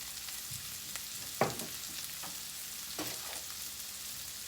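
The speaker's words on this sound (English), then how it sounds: "Let that simmer on there a little bit." Sausage and sweet potatoes simmer in olive oil in a pan, a steady soft sizzle broken by a few louder scrapes or stirs, close by with no talking.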